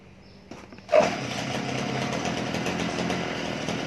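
A small engine starts up with a loud jolt and settles into a steady, buzzing high-pitched drone as it spins a rotating blade on a shaft in a classroom mechatronics design demo, with a few clicks beforehand.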